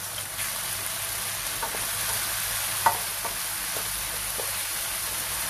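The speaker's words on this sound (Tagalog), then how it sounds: "Lalagyan ko ng konting pork belly, fried pork belly" Fried pork belly is tossed into a pan and stirred, giving a steady close sizzle with a few light scraping and clinking taps scattered through it, no voices.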